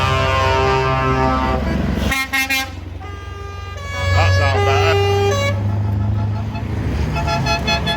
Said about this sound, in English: Can't hear it from pipping horns.